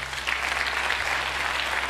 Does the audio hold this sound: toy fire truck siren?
no